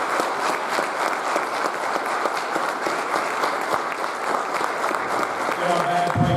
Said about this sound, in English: And a special round of applause for our police and fire department,